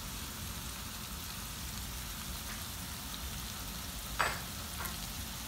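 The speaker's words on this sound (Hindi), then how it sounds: "इसको हम थोड़ा सा फ्राई करेंगे, ये जिंजर गार्लिक का जो टेस्ट है वो ज़रा सा पक जाए।" Onion with ginger garlic paste frying in a pan for dhaba-style keema, a steady low sizzle with a sharp utensil clink near the end.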